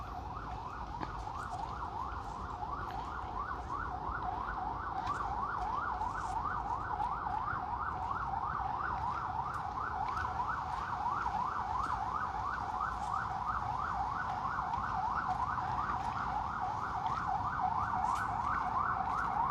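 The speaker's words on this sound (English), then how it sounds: "Okay, we can hear the siren." Emergency vehicle siren wailing in Manhattan, heard from the Ramble in Central Park on a hot summer day, a steady rapidly cycling yelp that stays moderately distant and constant over low city rumble, with no talking.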